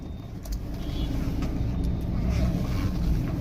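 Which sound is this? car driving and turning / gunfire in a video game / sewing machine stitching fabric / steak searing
car driving and turning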